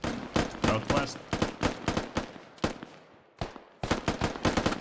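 Rapid bursts of gunfire in the tactical shooter Squad, sharp repeated shots in quick volleys with a short lull near the middle before firing resumes, loud and close, with no talk over it.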